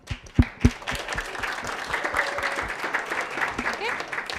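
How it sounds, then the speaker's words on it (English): A crowd at a startup pitch event applauds steadily, opening with a few sharp, loud claps before settling into dense, continuous clapping, with voices mixed in underneath. "give them a round of applause"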